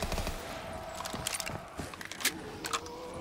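Rapid bursts of PPSh submachine gun fire in a Black Ops custom zombies video game, faint and somewhat muffled, broken into short irregular volleys with mechanical clatter, and no one speaking.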